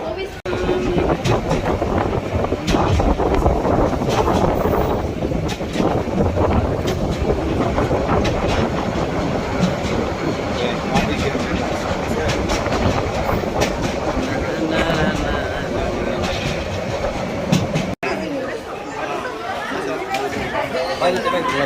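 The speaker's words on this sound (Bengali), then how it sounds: "আহা ট্রেন।" Train passing near Cox's Bazar, a rumbling rolling clatter under lively crowd chatter and voices, steady for most of the stretch before easing off near the end.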